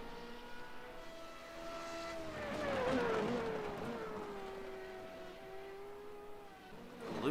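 Race cars on the front straight of a Canadian Grand Prix in an F2 racing game, a steady engine drone whose whine climbs and falls as cars pass, loudest at mid-clip, with no talking.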